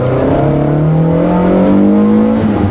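A 1990 BMW M3 E30 engine revs steadily under throttle while driving, a loud continuous drone with rising harmonics that climb through the run, close and dominant with faint tire noise beneath.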